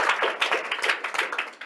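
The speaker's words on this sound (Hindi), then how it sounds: "ए ताली बजा दो ना इसके लिए।" A small group claps for a child at a school science exhibition: brisk, uneven clapping in quick rhythmic bursts, fairly close, with no voices over it.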